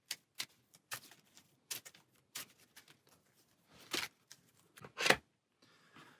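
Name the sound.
shuffling a deck of game cards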